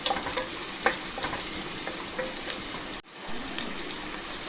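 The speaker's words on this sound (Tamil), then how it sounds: "வெங்காயம் நல்லா கோல்டன் ப்ரௌன் ஆற வரைக்கும் இதை நம்ம நல்லா வதக்கணும்." Two onions sautéing in a pan for a Chettinad-style chicken gravy give a steady, close sizzle with occasional stirring clicks and a brief dip in the middle, with no voices.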